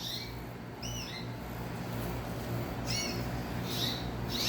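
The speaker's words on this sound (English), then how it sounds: "And here are my birdies." Pet canaries kept indoors give several short, high chirps at intervals, fairly faint over a steady background hum.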